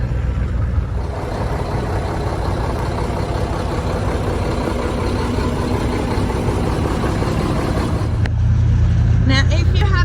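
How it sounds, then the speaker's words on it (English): A farm truck engine idles steadily as it warms up, a continuous low rumbling drone that swells slightly near the end, with people talking over it. "He's just warming up the truck."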